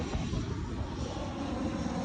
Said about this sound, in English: What you're hearing there is the airplane coming to Faro Airport